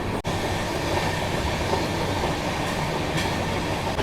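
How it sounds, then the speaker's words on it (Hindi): Steady rumble and rolling noise fills the inside of a 3rd AC coach on the Delhi–Yeshwantpur Duronto Express as it runs through a ghat section, with faint rail clacks and no talking. "तो आज की जर्नी अपनी चल रही है 3rd AC में।"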